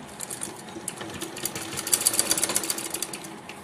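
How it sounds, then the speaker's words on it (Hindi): A sewing machine stitches fabric over buckram for a Patiala salwar, with quick rhythmic needle clatter in close bursts that speed into a steady run and then ease off. "अब इसको हमें अच्छे से इस तरीके से सेट करते हुए सिलाई को लगाना है इसके ऊपर"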